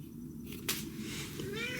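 A cat meows close by in a home where feral kittens are cared for, one drawn-out, rising and falling call over a faint room hum.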